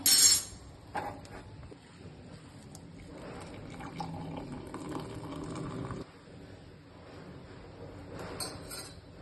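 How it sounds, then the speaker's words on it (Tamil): Boiled hibiscus flower tea being strained, with liquid pouring and trickling steadily, a clink of glass or metal at the start and near the end, close and fairly quiet. "இந்த ஆஃப் பண்ணி வடிகட்டிக்குவோம்"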